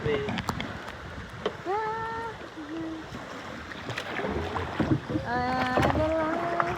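Bangka outrigger boat moving on the sea off Pamilacan Island, a steady wash of water and wind-blown motor noise throughout, with voices talking over it near the microphone.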